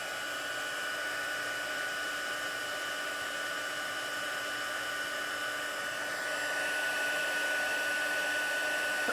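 A heat embossing tool blows steadily over a stamped sympathy card, giving a continuous, loud whooshing hum much like a hair dryer that runs unbroken and alone throughout.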